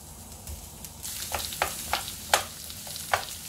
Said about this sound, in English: Natin yung pag mainit na yung kawali, isayin mo natin yung onion.